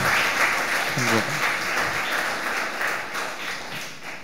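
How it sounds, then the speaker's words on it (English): Audience applause at a Nityananda Trayodashi temple seva gathering, a steady wash of many hands clapping together, fairly distant and sustained, thinning slightly toward the end. "Request everyone to show your appreciation by giving a big round of applause."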